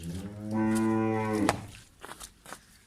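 A Friesian cross cow gives a single long, loud low moo close by. Faint voices and rustling follow.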